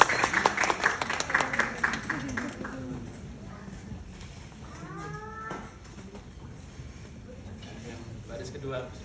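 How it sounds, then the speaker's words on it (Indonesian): An audience applauds Anies Baswedan at a gathering in Taiwan, a burst of clapping loudest in the first few seconds, then fading beneath a speaking voice and room chatter. "Kita berikan tepukan yang meriah kepada Bapak Anies Rashid Baswedan"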